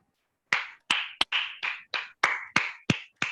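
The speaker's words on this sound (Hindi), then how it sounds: "लेकिन मेरे यीशु के लिए जोरदार तालियां बजाइए" Sharp, unison claps from a church congregation during a sermon, landing as nine crisp, evenly spaced strikes with brief ringing tails and near silence between them.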